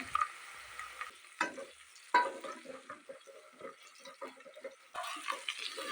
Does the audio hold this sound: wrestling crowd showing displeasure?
no